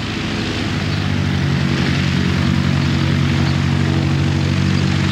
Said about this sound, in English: I'll put the drone up and follow them in, Ron.